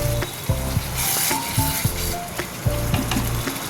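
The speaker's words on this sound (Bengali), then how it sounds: "এবার দিয়ে দেবো কারি পাতা এবার ভালো করে কষিয়ে নিয়ে" Chicken and curry leaves stir-fried in a pan for chicken kosha, a close, loud sizzle broken by regular sharp spatula scrapes and knocks against the pan about every half second.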